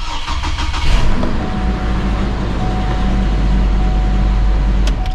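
A 2007 Hummer H3 with a 4.7 liter engine running rough in limp mode, a loud steady mechanical roar close by with an uneven rumble and no talking.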